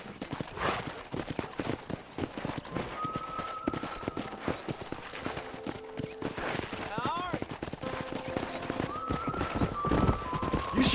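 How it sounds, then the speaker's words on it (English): Horse hooves clip-clop steadily in the Red Dead Redemption video game, a dense run of quick hoofbeats mixed with voices and tonal game sounds, growing slightly louder toward the end. "Let's see if we can't wrangle some horses"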